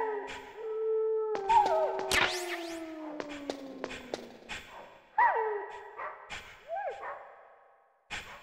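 Wolves bark and howl in the stealth video game Metal Gear Solid, several sharp calls and rising yips over falling tonal cries, with thuds and swooshes scattered between them.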